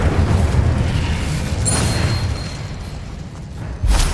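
Incendio fire spell cast in Hogwarts Legacy, a deep rumbling whoosh with booming low end that swells and rolls on, ending in a sharper burst.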